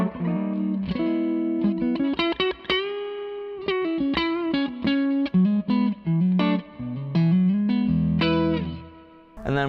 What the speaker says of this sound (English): Clean tone, Music Man into the Victory with the Exosphere reverb from Zander as well.